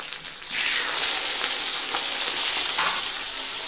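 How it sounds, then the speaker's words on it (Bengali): A fish head hits hot oil in a pan with bay leaf, dried chillies and a little onion, bursting into a loud, close, steady sizzle that holds throughout with no talking. "তার সাথে মাছের মাথা দিলাম,"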